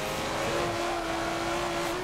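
Nissan GT-R race car engine in the racing game Forza 7, a steady sustained drone holding one pitch throughout, close and fairly loud, with no talk.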